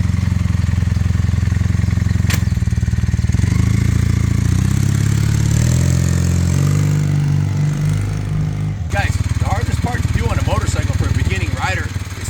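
Honda CM400A Hondamatic motorcycle engine running close and loud, a steady low idle with a pitch shift as it settles, then lumpy clattering under a person talking.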